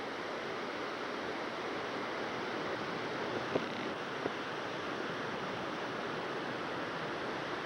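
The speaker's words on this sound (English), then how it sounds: "We'll listen to the waterfall." A waterfall roars as a continuous broadband rush, steady and moderately loud, with a couple of faint clicks and no speech over it.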